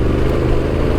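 Indian motorcycle engine droning steadily and loudly up close as the rider throttles up on a rural road in Argentina, a continuous low rumble through the whole moment.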